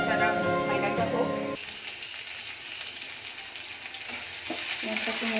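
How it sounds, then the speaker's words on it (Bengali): Onions frying for khichuri, stirred in a pan with a steady close sizzle and scraping of the spoon, while a voice talks over the first second and a half. "পেঁয়াজটা একটু নেড়ে দিই"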